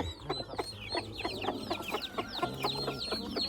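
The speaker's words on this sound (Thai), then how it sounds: "นี่ลูกไก่" Chicks and chickens on a farm setting cluck and cheep in a busy, overlapping chorus, with high chirps and lower clucks repeating throughout at close range.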